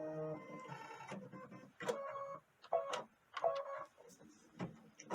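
An embroidery machine stitches out a shoe outline in black thread, giving quiet, close mechanical whirring in short bursts broken by brief pauses and ticking stops.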